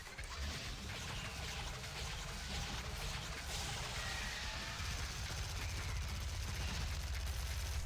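A new gun in an old tower defense video game fires continuously, a dense rapid crackle of automatic shots sustained for several seconds at moderate level, with no talk.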